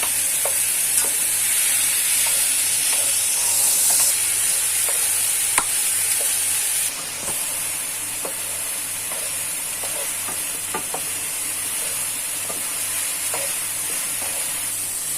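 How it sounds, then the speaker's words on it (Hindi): Apple halwa is stirred and mixed in a hot pan, giving a continuous loud sizzle with a high steamy hiss and regular scraping strokes of the spoon, close and without talk. "अब हम इसको ट्रांसपेरेंट होने तक इसको अच्छे से मिक्स कर लेंगे।"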